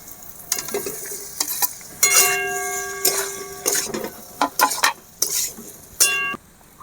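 Fried potatoes are stirred into a spice masala with kasuri methi in a pan. The sizzle comes in bursts, and the spoon gives repeated metallic clinks and scrapes against the pan.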